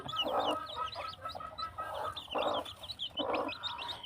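Hens cluck in soft repeated bursts close by, with scattered chick peeps chirping steadily over a low hum.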